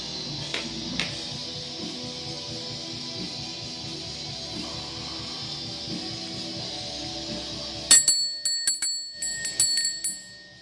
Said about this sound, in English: I recently bought a new ceremonial bell, a Wiccan altar bell.